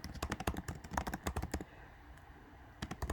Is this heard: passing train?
no